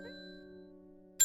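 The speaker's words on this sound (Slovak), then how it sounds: "Čo stane, keď cinknem na ten zvonček?" A small service bell in the video game Strange Horticulture dings once with a clear ringing tone that hangs and slowly fades, followed by a sharp louder click or chime at the end.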